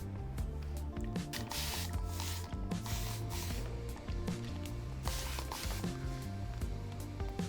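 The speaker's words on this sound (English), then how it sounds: "I'm going to start off by spraying your hair with the water bottle until the hair is damp but not dripping" Repeated hissy bursts of a spray bottle misting water onto hair, several quick pumps in a row over a steady mechanical background hum, fairly close.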